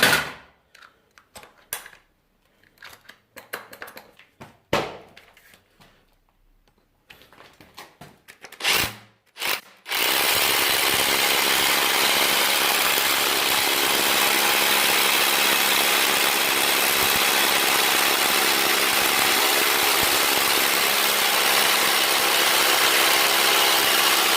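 A few sharp knocks and short bursts, then a loud, steady high-pitched drilling roar from an SDS Plus hammer drill with a 12mm Parkside bit, running without pause for over fourteen seconds.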